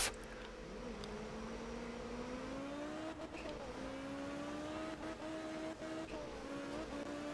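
A race car engine in the racing game VRC, droning steadily with pitch rising and dipping through shifts and throttle changes, close and continuous with a few brief knocks.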